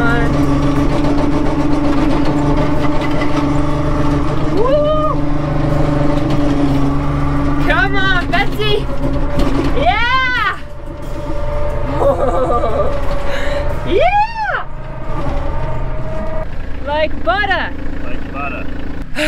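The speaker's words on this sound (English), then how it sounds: "We actually both really love driving the tractor." A tractor engine backs slowly through a tight garage space, giving a steady low mechanical drone throughout, with brief rising and falling squeaky tones over it.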